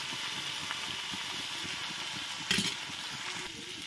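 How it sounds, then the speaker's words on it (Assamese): Potatoes and bitter gourd fry in a pan with a faint, steady sizzle, a soft continuous hiss with one brief louder crackle partway through. "এয়া মই আলু আৰু ভাতকেৰেলাখিনি ফ্ৰাই কৰা হৈ গৈছে"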